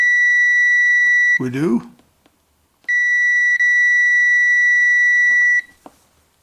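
A multimeter continuity beep sounds on the rails of an N scale model railway power-switch layout: a steady, loud electronic tone held for over a second, then held again for nearly three seconds, with a brief spoken remark between the two tones.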